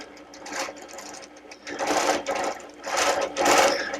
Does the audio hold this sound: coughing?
no